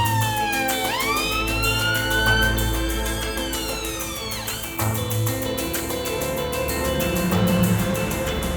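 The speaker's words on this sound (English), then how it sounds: "The man's wife, Julie, has accompanied him in the ambulance." A 2-tone ambulance siren wails loudly and continuously up close, rising and falling in pitch, while the vehicle's engine rumbles steadily underneath.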